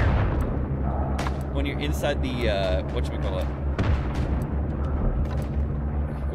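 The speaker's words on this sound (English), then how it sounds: "God, so many explosions, dude." Explosions and artillery fire boom continuously in the WW1 shooter game Isonzo, a dense rumbling barrage under someone talking.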